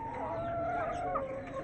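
Hens kept in a backyard coop during rain give a drawn-out, wavering clucking call, faint and somewhat distant over steady background hiss.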